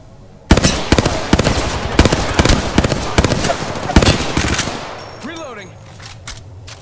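Rapid automatic gunfire from the video game Apex Legends rattles in dense, loud bursts for several seconds before easing off into quieter game sounds.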